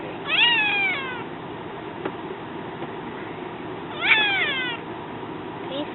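A Siamese kitten gives two drawn-out, wavering meows about four seconds apart, close and fairly loud, with a quiet room hush between them.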